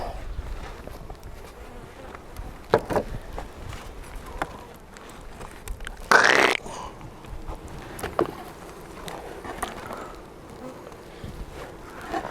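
Wild caught honey bees hum around a hive, a steady low buzz with individual bees passing close by, accompanied by intermittent handling knocks and a brief loud burst partway through.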